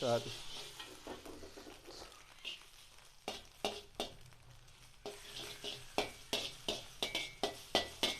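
Chicken black pepper egg fried rice is mixed in a pan, spatula strokes scraping and clinking in a quickening rhythm over a soft sizzle, close but fairly quiet.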